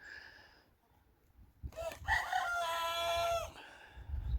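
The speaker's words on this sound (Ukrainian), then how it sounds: "і півники Амараукана" An Araucana rooster crows once, a long drawn-out call that rises and wavers before trailing off, loud and fairly close, with faint clucking before and after.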